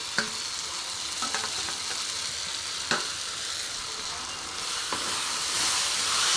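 Roasted aubergine tumbles into a hot pan of frying vegetables for Indian baingan bharta, then a spoon stirs it through a steady, close sizzle with a few sharp scrapes and clinks.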